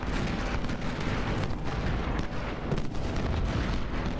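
Rumbling artillery fire from an American Civil War battle at Second Bull Run in the Ultimate General strategy game, a dense, continuous barrage of booms and crackling shots at steady loudness with no talking.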